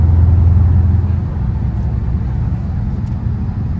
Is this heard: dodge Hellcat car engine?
yes